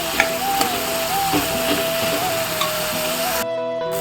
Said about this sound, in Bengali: তো এবার ভালো করে এটা কষিয়ে নিই আমি